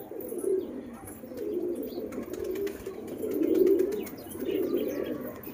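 Two pigeons cooing nearby in repeated low, rolling phrases that swell and fade every second or so, with faint background chirps and no talking.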